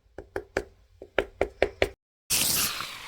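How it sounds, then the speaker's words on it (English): Eight quick, light taps in a steady rhythm knock on a baked clay Minecraft spider sculpture, close and dry. A short silence follows, then a loud, broad rush of noise. "we do our knock test"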